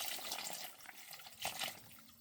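Water poured from a watering can onto diseased garden plants, one can shared among three, a steady splashing trickle with a brief louder gush near the middle, close and continuous without talk.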